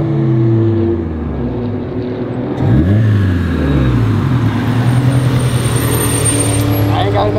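A race car starts a flying lap, its engine revving and shifting through the gears with rising and falling pitch sweeps, loud and close throughout.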